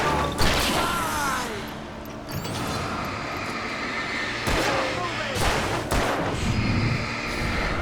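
Gunshots in Alan Wake, a handful of sharp loud cracks spread irregularly over a noisy background, with talk in between.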